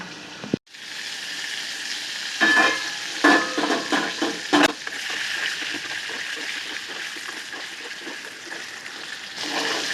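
Pointed gourd (potol) frying in oil in a pan over high flame, a continuous sizzle with scraping stirring strokes and short clattering bursts throughout.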